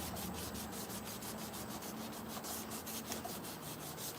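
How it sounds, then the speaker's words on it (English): A car's front bumper is sanded by hand with 400 grit sandpaper, a close, fast, rhythmic rubbing scratch of even strokes that runs throughout with no speech. "after you get all the chip damage off, you can get you some 400 sandpaper."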